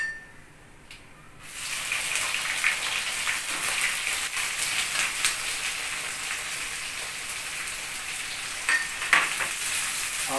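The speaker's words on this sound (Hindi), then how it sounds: "देखिए प्याज इस तरह भुनेंगे और इसको ब्राउन होने देंगे" After a brief quiet start, chopped onions hit hot oil with whole spices such as bay leaf, cloves, cardamom and black pepper, setting off a sustained rain-like sizzle with occasional scrapes of stirring, no voices.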